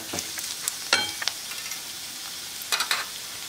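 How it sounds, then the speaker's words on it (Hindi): Cooked rice being stirred into mushroom fried rice in a hot pan, with soft sizzling under several scraping, clattering strokes of a spoon against the pan, close up and with no voices. "चावल डाल के अच्छे से मिक्स कर देंगे।"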